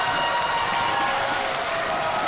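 A large stadium crowd at the Pacific Games in the Solomon Islands roars in a steady, dense wash of cheering and applause that holds at full level throughout.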